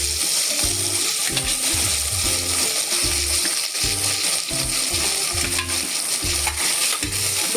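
Onion and tomato for pulao are stirred in a hot pan, with a spoon scraping in an even repeating rhythm over a constant loud sizzle.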